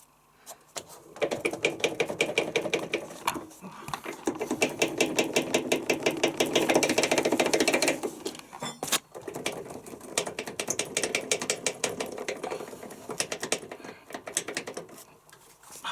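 A loose part rattles inside a Whirlpool washing machine, giving rapid, clattering mechanical ticks in uneven bursts close to the listener, with short pauses between runs.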